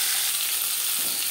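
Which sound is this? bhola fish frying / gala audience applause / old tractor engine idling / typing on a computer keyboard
bhola fish frying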